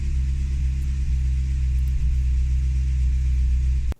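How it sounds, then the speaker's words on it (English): A two-liter four-cylinder turbocharged Porsche engine idles, heard from the dashboard as a steady low rumble, loud and even, before it cuts off abruptly near the end. "another idle from the dash, so you can get a sense of the engine speed at idle"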